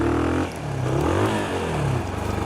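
Deep, throaty Mash 400 motorcycle engine with a 2-into-1 exhaust nearby, revving up and easing off a couple of times with a meaty rumble.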